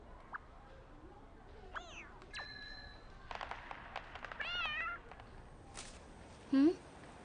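Several short, high game-like meows and chirpy electronic tones, fairly clear, followed near the end by a brief louder squeaky cry.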